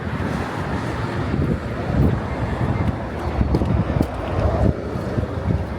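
Wind blows outdoors in Korea on a cool late-summer day, a steady blustery rumble buffeting the microphone with gusts swelling and easing throughout, and no clear voices.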